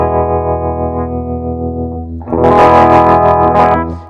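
Electric guitar run through a Nembrini Double Reverb amp plugin in Cubasis 3, starting as a sustained, dull low-end chord tone and then swelling into a louder, brighter, distorted strummed passage with heavy effects.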